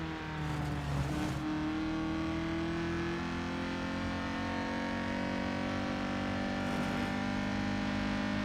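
Race car engine in the Real Racing 3 mobile game, a continuous loud drone with rising and falling tones through the gears, alone with no voices.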